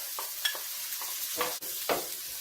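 Garlic and onions are stirred in oil in a pan for stir-fried basmati rice, making a quiet, close sizzle broken by several soft scraping strokes at uneven intervals.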